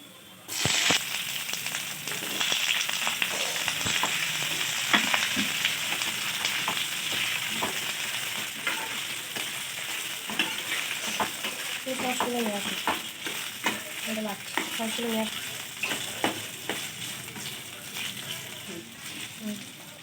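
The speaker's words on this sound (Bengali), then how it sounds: "রসুনগুলো ভাজা ভাজা হয়ে এলে এবার দিয়ে দিতে হবে এক এক করে পেঁয়াজ কুচি আর ক্যাপসিকাম কুচি" Chopped onion and capsicum sizzle in a pan of fried garlic, a loud burst of hissing as they go in, then steady crackling with repeated scraping stirs, close and without voices.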